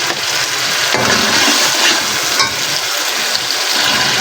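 Masala paste for a kaale chane salan (black chickpea curry) hits a hot frying pan, giving a loud, steady, continuous sizzle and crackle that lasts throughout with no voices.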